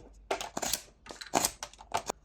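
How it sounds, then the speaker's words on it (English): A knife makes a sweeping cut into a wood block while whittling a dragon, heard as several short, close, crisp scraping strokes separated by brief pauses. "The first thing we're gonna do is a sweeping cut."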